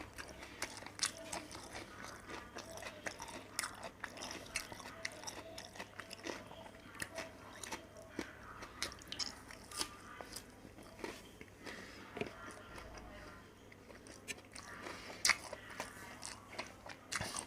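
Crisp bites and steady chewing of a crab stick salad roll, close and quiet, repeating in a loose rhythm with faint crunches and no talking.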